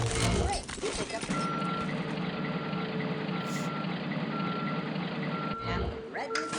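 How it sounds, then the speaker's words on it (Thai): Dump truck in the Wrecking Ball Truck game giving a steady series of loud, evenly spaced reversing beeps over a constant engine rumble, with a few clanks at the start and end. "มาเลยรถบรรทุกก็มาเตรียมเรียบร้อยแล้ว"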